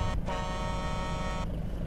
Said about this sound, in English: Let's listen to the horn.